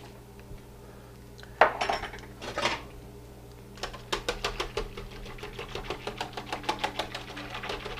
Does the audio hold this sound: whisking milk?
yes